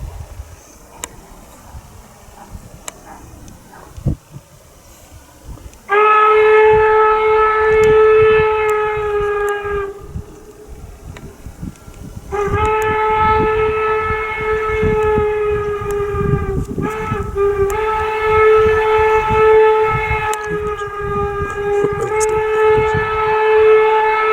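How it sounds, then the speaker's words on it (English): A steam locomotive whistle sounds in long, loud, harmonic blasts, two extended ones followed by a shorter burst, over rumbling train noise, as it crosses an intersection at Promontory, Utah. "We hear the two long whistles followed by a short as it comes through the intersection here."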